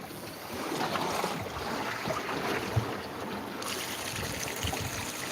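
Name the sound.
boat bilge pump running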